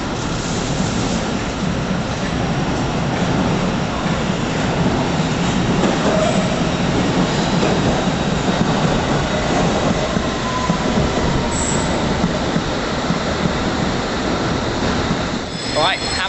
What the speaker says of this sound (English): we have to wait 2 trains to pass until we can get our train